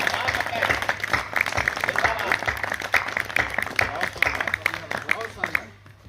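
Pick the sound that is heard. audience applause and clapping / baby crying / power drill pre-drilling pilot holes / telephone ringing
audience applause and clapping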